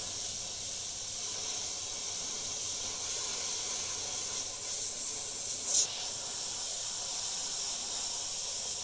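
An airbrush sprays a blood splatter effect through a loose template, a steady close hiss that runs throughout and changes slightly midway, with a short sharper burst near the end.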